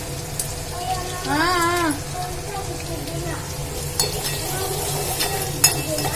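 Tomato gets stirred through garlic and peanuts in a pan, giving a steady, soft sizzle with scraping and light clinks of the spoon, while a voice briefly sounds in the background.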